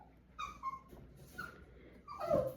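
Oakley, a pet dog indoors, whining and whimpering in the background with a few high yips, faint and intermittent, with a louder whine rising near the end.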